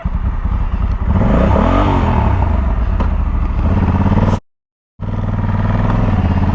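An automatic Honda motorcycle idles and revs with a loud rattling engine note, then abruptly cuts out into silence before the sound resumes, close and without speech.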